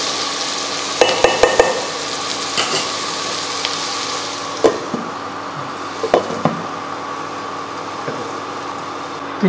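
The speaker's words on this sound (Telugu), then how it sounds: "చికెన్ వేసిన తర్వాత బాగా కలిపి మూత పెట్టి మరో ఐదు నిమిషాలు చూడాలి" Chicken curry sizzles steadily in a pan, a loud constant frying hiss, while a spoon stirs it with occasional scraping clatters against the metal, close up and with no talk.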